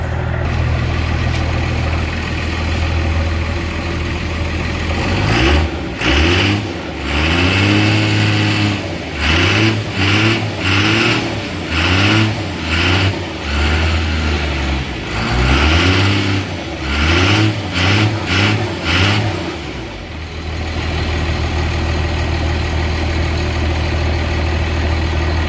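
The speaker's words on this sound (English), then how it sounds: "Let me go ahead and rev it a little bit to get the water out." A Cummins turbo diesel swapped into a Chevy C30 squarebody truck idles with a deep rumble, then revs repeatedly in short bursts before settling back to idle, loud and close.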